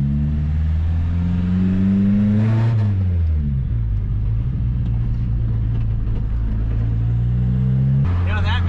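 Engine of a 1979 Chevy LUV pickup running smoothly without stumbling, a loud steady idle rising into a rev and then settling back, with a voice talking over it in places.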